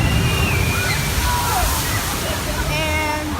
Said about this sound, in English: They're about to get splashed.